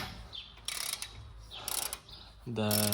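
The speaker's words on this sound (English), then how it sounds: "Now we're gonna remove the brake caliper" Bursts of quick ratchet clicking come from a wrench working on the brake caliper of a VW Transporter T5, close and fairly loud, ending in a higher mechanical whirring at the end.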